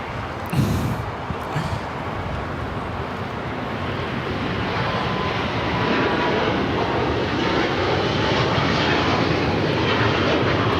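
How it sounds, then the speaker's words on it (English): A China Eastern Airlines Boeing 777-300ER takes off at Los Angeles LAX, its engines a loud, steady broadband roar that holds and swells slightly over about eleven seconds, with no voices. "This is China Eastern Airlines 586 taking off to Shanghai on the 777-300ER."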